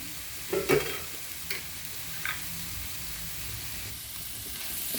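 Chopped coriander leaves fry in a pan with a soft, even sizzle throughout, joined early by a couple of brief stirring clinks and scrapes, close and moderate in level, with no talking.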